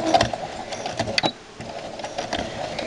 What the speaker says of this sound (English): And I'm going to start stitching.